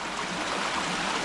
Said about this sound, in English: And as you can see, still pissing down.